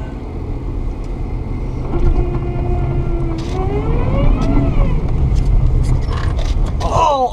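A car drifts at an angle in the snow while doing J-turns, its engine whining and rising in pitch over a constant loud rumble of tyres and wind.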